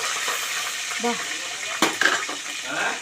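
Curry leaves frying in hot oil for dosakaya pappu: a bright, dense crackling sizzle with a sharp spattering burst near the middle, close and fairly loud.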